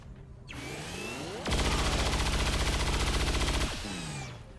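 XCOM 2 soldiers fire a loud, rapid automatic burst of about two seconds, framed by rising and falling mechanical whooshes, with no talking.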